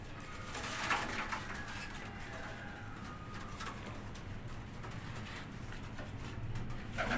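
Racing pigeons of an old family breed coo softly and repeatedly over constant low background rumble, with faint distant calls and no talk.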